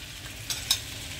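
Yogurt stirred into bitter gourd cooking in a pan gives a steady low sizzle, with two brief soft scraping stirs close by and no talking.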